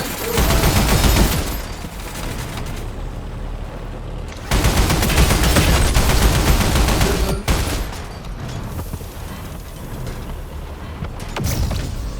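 Turrets in the tank game TankHead fire in rapid bursts of gunfire, loud clattering volleys that start, pause and resume, with mechanical creaks between salvos.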